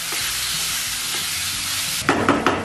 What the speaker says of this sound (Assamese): গোটেইখিনি ভাজি থাকিম এতিয়া।